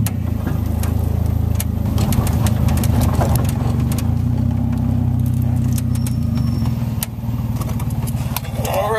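Engine of a Go4 vehicle running while it warms up and sets off on a ride, a steady, loud mid-pitched drone with a few small clicks and rattles over it.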